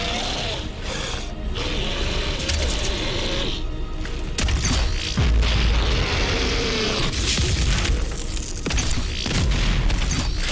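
A frag grenade blast in the DOOM video game, a low booming burst over a dense, loud backdrop of mechanical game noise and clanking, with deep thumps midway through.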